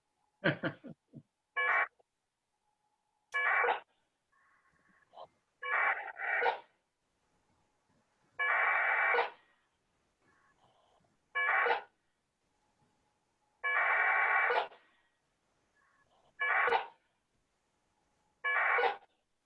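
A received digital radio modem signal sounds in repeated bursts of bright, buzzy warbling tones separated by pauses, with faint quieter tones between the bursts.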